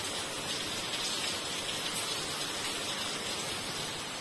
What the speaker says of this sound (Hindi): देखो बारिश शुरू हो गई